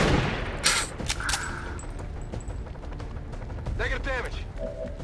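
A sniper rifle in the turn-based tactics game XCOM 2 War of the Chosen fires, with a loud crack near the start and a few later bursts and impacts under game sounds, while someone talks over it.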